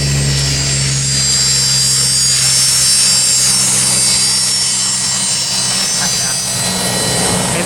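Aircraft taking off while planespotting, a steady loud engine roar with a deep low drone holding across the whole stretch, voices talking faintly under it.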